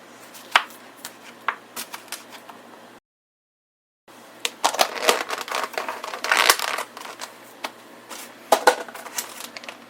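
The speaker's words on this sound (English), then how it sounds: "And for the cucumbers, I like to cut them pretty thick." Thick cucumber slices cut with a knife during home meal prep, a series of sharp separate chops and crunches that stop briefly partway through, then come back in quicker, busier bursts.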